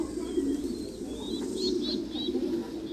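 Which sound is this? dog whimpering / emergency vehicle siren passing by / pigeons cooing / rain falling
pigeons cooing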